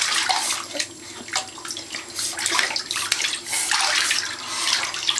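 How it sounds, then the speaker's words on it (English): A child splashes bathwater in a tub at home, bursts of sloshing and spraying water coming close and loud in quick, uneven waves with short pauses between. "Are you splashing so hard?"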